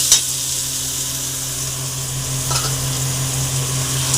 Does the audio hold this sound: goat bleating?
no